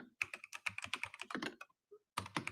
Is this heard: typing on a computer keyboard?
yes